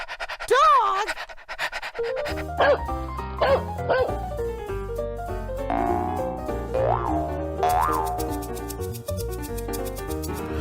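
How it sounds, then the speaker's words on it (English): A dog bark and panting sound effect plays over a bouncy xylophone tune in a children's first-words piece, with playful cartoonish yips and boings standing out clearly above the music. "Dog!"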